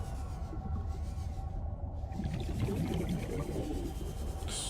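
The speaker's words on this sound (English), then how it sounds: "I think it was the lunar whale, actually" Lunar whale call in the underwater game Subnautica: Below Zero, a low moaning cry rising over a steady deep ambient rumble, carrying on throughout with a brief brighter swell near the end.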